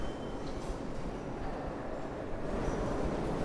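A steady low rumble of a subway train at a New York City station in North Williamsburg, Brooklyn, continuous and fairly loud, with faint high squeals from the rails.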